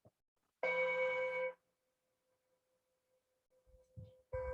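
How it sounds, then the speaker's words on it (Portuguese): A small bell chimes once with a clear, ringing tone that hangs in a long, fading sustain, then a few soft knocks and a second strike at the end. "gostaria que vocês dissessem para mim se vocês ouvem aí o meu sininho"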